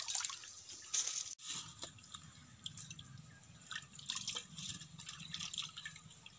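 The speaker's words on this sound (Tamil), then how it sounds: "நல்லா வாஷ் பண்ணிக்கணும்." Ridge gourds being washed by hand in water, with close splashing, dripping and trickling sounds that come in irregular bursts and pauses, with no one talking.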